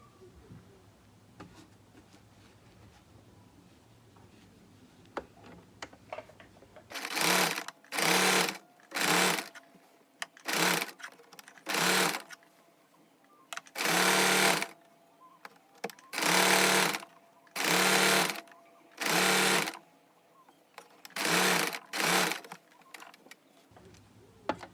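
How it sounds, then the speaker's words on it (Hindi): A sewing machine stitches a seam on a lace-trimmed palazzo, running in about a dozen loud, close bursts of rapid whirring with short pauses between them, after a quiet stretch of faint room noise. "और सेम इस साइड भी इसी तरह से सिलाई लगा लेंगे।"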